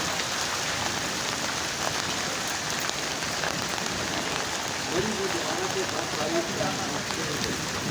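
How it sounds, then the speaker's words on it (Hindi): Hail and rain pelting down on Murree road in Murree, Pakistan, a dense steady patter of falling ice and water, with someone talking faintly over it. "मरी मार रोड पे ओले पड़ रहे हैं इस वक्त।"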